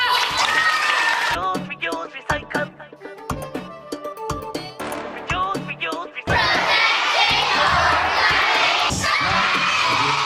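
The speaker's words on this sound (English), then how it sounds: "Give her a clap." Clapping and cheering from a morning television show studio audience in Barbados, with shouts and whoops in the opening seconds, choppier sounds in the middle, then a loud burst of cheering and applause near the end.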